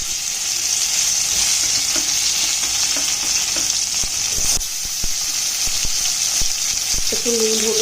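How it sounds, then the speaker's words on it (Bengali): Potatoes frying in white oil with a pinch of salt in a kadai, a steady loud sizzle with scattered clicks and scrapes of stirring throughout. "এবার আমি আগে আলুটা ভেজে দিই।"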